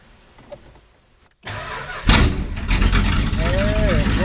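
A 1970 Plymouth GTX's 440 engine with FiTech Six Barrel fuel injection cranks, then catches and fires into a loud, rough, rumbling idle close by, with a voice calling out over it.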